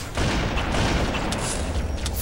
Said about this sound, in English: This jackal is way too fucking keen on shooting me.